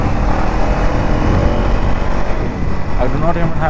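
KTM Duke 390 Gen 3 motorcycle engine running steadily at road speed, loud and close, with a quick upshift to fifth via quickshifter that barely interrupts the drone, under wind noise and someone talking.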